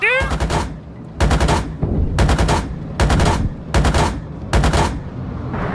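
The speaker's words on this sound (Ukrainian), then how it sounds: "моя 30-мм ця автоматична пушка" A BMP-2's 30 mm autocannon fires in the PC game Gunner, HEAT, PC: six loud, evenly spaced bursts of rapid heavy shots, each followed by a brief rumbling gap, over steady engine drone.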